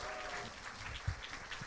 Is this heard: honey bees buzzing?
no